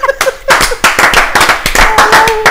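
Studio audience applause on a French talk-show set: a dense run of sharp, close hand claps, loud and steady throughout the short stretch.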